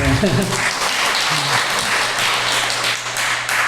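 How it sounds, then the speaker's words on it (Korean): A church congregation breaks into loud, sustained applause during a Sunday sermon, a dense wash of many hands clapping close by, with a brief voice near the start. "박수 한번 칩시다."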